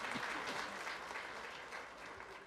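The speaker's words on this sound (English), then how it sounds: "one more round of applause for Mr." Audience applause for a speaker at a school winter band concert, a full, even patter of many hands clapping across the room, sustained and fairly distant throughout.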